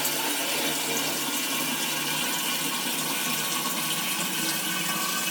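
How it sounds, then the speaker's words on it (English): Cold water gushes steadily into a Pinter brewing container, a continuous close hiss and rush of filling liquid with no voices. "it's filling with cold water, and we're filling up to that red line area again"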